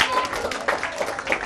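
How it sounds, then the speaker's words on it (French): A group of children claps for themselves in a short burst of light applause, with an adult voice speaking over it. "Applaudissez pour vous-même."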